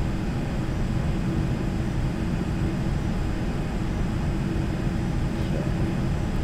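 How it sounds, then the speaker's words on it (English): Steady drone of a Learjet's engines in flight in a flight simulator, a constant low roar with an even hum that holds at one level with no pauses. "here we are, flying a Learjet towards the mountains"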